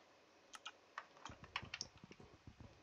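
Typing on a computer keyboard during a Minecraft session, a rapid uneven run of close, crisp key clicks that grows denser toward the end, with no talk.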